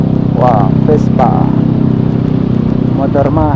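A Vespa scooter engine drones steadily nearby as it passes along a street in Yogyakarta, heard under a person talking.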